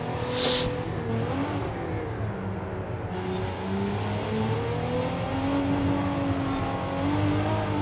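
The engine of a 2022 Cadillac CT4-V Blackwing in Forza Horizon 5 revs and pulls through the gears, its pitch rising and falling in several sweeps, with brief bursts of noise at a few shift points.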